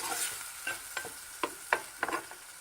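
Salted tomatoes stirred in a pan, a steady soft sizzle broken by about eight light scraping strokes at an uneven pace, close and fairly quiet with no talking.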